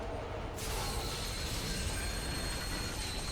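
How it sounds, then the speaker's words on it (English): A tram in the video game Dead Space 2 pulls away with a sudden loud rush of rail rumble, wheel hiss and high squealing tones that then holds steady and close, with no talking. "This tram is now departing."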